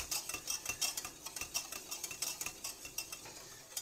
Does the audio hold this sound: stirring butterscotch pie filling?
yes